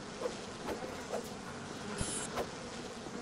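Bees buzzing around beehives in the Bioshock video game, a soft continuous insect drone with a few brief louder passes, heard alone without talk.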